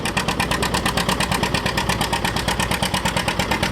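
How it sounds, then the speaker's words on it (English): A vintage tractor engine runs at very low revs during a tractor pull and machinery rally, giving a steady, even chug of rapid regular pulses that holds at a constant level throughout. "there's hardly any revs at all on that tractor"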